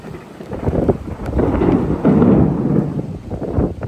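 Blustery wind of a rain and thunderstorm in a village rumbles loudly against the microphone with low, rolling storm noise, swelling and easing over a few seconds.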